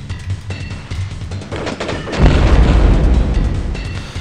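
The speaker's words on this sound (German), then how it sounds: "Es ist nicht immer schön, wenn es mal wieder so Explosionen gibt." A barrel explodes in the video game Crusader: No Remorse with one sudden heavy boom, loud and close, which follows quieter game sounds and then fades into a long rumbling tail.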